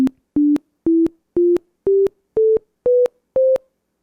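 An 8-bit computer plays a rising musical scale, eight short, even, buzzy square-wave notes stepping upward one after another, loud and clean with brief gaps between them.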